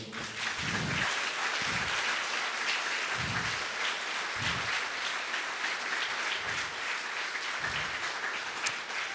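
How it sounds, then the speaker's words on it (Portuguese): A church congregation applauds in sustained, dense clapping that fills the space at steady loudness, with faint low thumps recurring beneath it. "dê o seu melhor aplauso ao Senhor."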